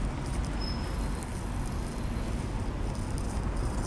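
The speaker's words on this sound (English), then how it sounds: "it would start raining during the summer." Steady summer rain makes a dense, continuous hiss and patter outdoors, heard close and unbroken throughout with no voices.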